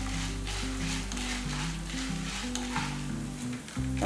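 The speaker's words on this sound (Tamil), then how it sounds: "நல்லா உளுந்தம்பருப்பு கடலைப்பருப்பு நல்லா பொரிஞ்சதுக்கு அப்புறம் தான் மீதி போடுற பொருட்கள் எல்லாம் சேர்க்கணும்" Urad dal and chana dal frying in a pan, a steady dense sizzle throughout with a low constant hum underneath and no talking.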